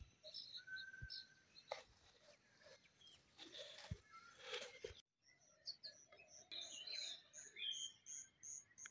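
Wild birds sing in village farmland, bright repeated chirps and melodic calls at moderate distance, with insects buzzing faintly beneath and a few thumps and rustles near the start.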